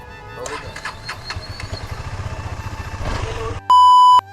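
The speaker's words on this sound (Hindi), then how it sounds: "देखते हैं बाइक स्टार्ट हो पाती है नहीं" A KTM Duke 250 motorcycle with a faulty battery, in rain, is started: a rhythmic pulsing crank-and-catch engine sound runs close and loud for several seconds, then stops, followed by a loud steady electronic beep.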